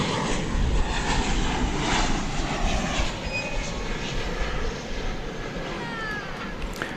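An Avianca airliner takes off at DFW airport, its jet engines giving a loud, sustained broadband roar that holds steady throughout and eases slightly toward the end.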